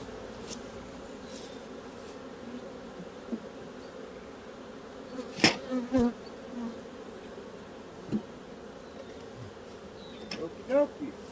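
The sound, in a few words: honey bee swarm buzzing around hive frames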